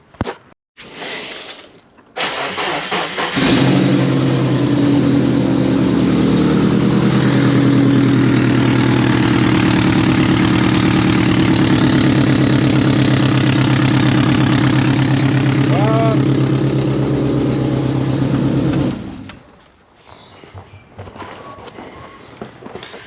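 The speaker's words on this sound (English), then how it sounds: "But let's start her up and hear that rumble again." A car engine cranks and fires up, then settles into a loud, steady idle with a deep, ragged rumble from a massive exhaust leak, likely at the up pipe, before cutting off; brief talk comes before and after.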